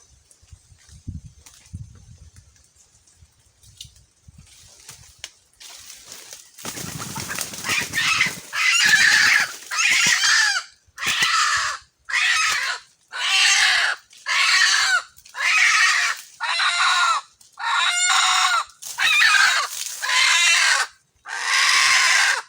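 Red junglefowl, a rooster and a hen, calling outdoors: after quiet rustling, a long series of loud, close, evenly spaced harsh calls repeats about once a second.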